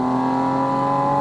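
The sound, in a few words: Porsche 718 Spyder RS GT3 engine revving high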